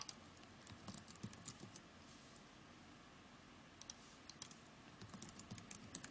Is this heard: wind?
no